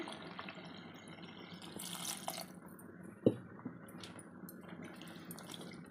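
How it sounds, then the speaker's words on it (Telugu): Water splashes and trickles into a pot of drumstick chicken curry with turmeric and coriander powder in a steady low wash, with one sharp clunk partway through; no voices. "వాటర్ వేసేయాలండి"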